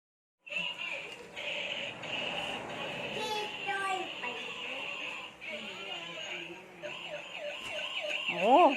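A transforming toy police car plays its siren and alarm tones nearby, a quiet, continuous wailing pattern with a voice talking over it.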